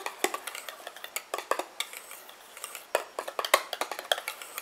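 A utensil stirs a thick homemade foot cream in a bowl just after allantoin goes in, giving a run of quick close clinks and scrapes in an irregular rhythm, fairly soft, with no voices.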